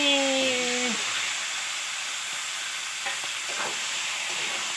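Meat frying in spice paste in a home kitchen, a loud steady sizzle and hiss with faint scraping as it is stirred, and a brief tonal beep at the start.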